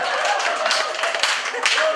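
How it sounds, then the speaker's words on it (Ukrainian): Guests at a Ukrainian wedding party game clap in a lively, uneven burst, with sharp individual claps poking through a busy room and voices mixed in underneath. "Під оплески файні"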